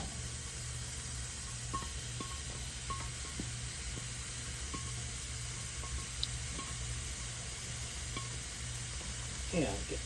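Oyster mushrooms sizzle in a hot pan, a steady faint crackle with occasional stirring scrapes and light clinks close by.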